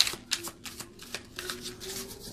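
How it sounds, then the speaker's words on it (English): Oracle cards are shuffled by hand at close range, giving soft, quiet riffling and flicking bursts that repeat in a loose rhythm with short pauses between them. "It's fun to shuffle."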